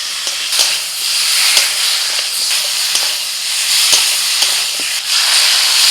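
Slit green chilies and tomatoes frying in a hot pan give a loud, steady sizzle with scattered small crackles throughout, close up and with no talk.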